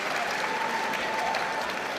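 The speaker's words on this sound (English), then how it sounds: "the crowd are really, really getting into it" Boxing crowd at a heavyweight bout cheering and applauding in a steady, dense roar, with scattered whistles and shouts layered over continuous clapping throughout.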